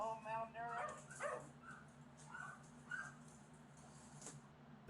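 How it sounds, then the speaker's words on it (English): Several malnourished dogs in a filthy house yip, whimper and bark in short bursts, fairly close but modest in level, with a low steady hum underneath. "More dogs. 3 dogs. All malnourished."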